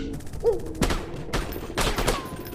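Gunfire in a first-person shooter video game, a handful of sharp, loud shots spaced irregularly across the stretch, with a brief tonal chirp near the start and no talking.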